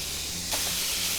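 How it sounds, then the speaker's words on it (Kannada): Tomato dropped into hot oil with cinnamon, cloves and green chillies, giving a sudden loud steamy hiss that swells midway and holds as a continuous sizzle. "ನೆಕ್ಸ್ಟ್ ಟೊಮೆಟೊ ಹಾಕ್ತೇನೆ"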